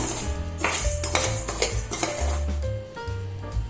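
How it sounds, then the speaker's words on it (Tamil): Moong dal dry-roasts in a pan on the stove, with a spoon scraping and stirring against the metal in quick, uneven strokes and a few light clinks, close and fairly loud, with no voices. "அதை அடுப்பில் வச்சு கொஞ்சம் செவக்க வறுக்கணும்."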